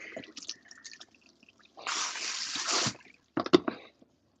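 Running water rinses relaxer out of hair at a salon shampoo bowl, a steady broad wash lasting about a second, framed by brief drips and splashes, then a short burst of splashing near the end.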